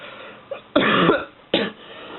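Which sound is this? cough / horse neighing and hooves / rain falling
cough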